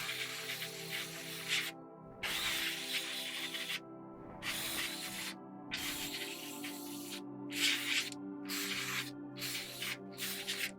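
An airbrush sprays undercoat onto a Tamiya Spitfire Mk.1 1/48 scale model in short hissing bursts, about eight of them, broken by brief silent gaps, close and fairly quiet.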